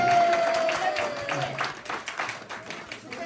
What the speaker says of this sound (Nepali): थपडी सबैजनाले थपडी